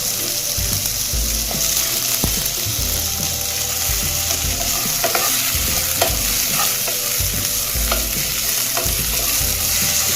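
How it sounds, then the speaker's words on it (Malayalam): Tomatoes fry and get stirred in a pan for a Kannur-style fish curry: constant loud sizzling with repeated scraping and clinking of a spoon against the pan, close, with no talking. "ഇതിലേക്ക് തക്കാളി ചേർത്ത് കൊടുക്കാം"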